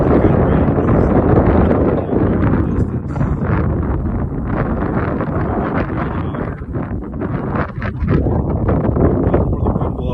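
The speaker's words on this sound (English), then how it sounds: "Just another day here in Oregon, kind of windy." Strong wind buffets the microphone at an outdoor gun range in Oregon's Columbia River Gorge, a loud, continuous low roar with gusty swells throughout.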